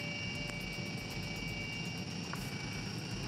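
The inside of a medical helicopter in flight fills with a constant loud engine and rotor drone and a steady high whine, unchanging throughout with no voices.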